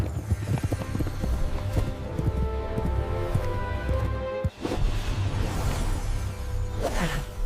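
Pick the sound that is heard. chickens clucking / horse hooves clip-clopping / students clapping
horse hooves clip-clopping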